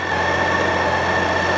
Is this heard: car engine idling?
yes